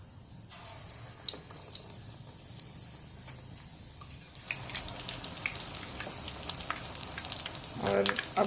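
Pakora batter frying in a pan of hot oil in a home kitchen, a steady close sizzle that swells and grows busier in the second half as more pieces go in, with no talk.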